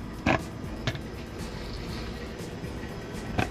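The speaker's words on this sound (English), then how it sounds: "It goes here, and it just snaps." A plastic vacuum cleaner attachment snaps into place on the machine, giving a few sharp clicks over a low background hum, each crisp and close with short gaps between them.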